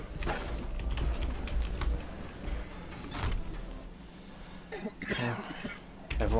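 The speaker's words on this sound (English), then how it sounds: "Everyone's coughing's freaking me out." Characters in the video game Stoneshard cough and clear their throats, several scattered rough bursts at moderate level over muffled in-game ambience and faint clicking.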